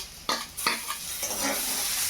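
Tomatoes hit softened onions frying in oil with two sharp hissing bursts, then settle into a steady, bright sizzle that carries to the end.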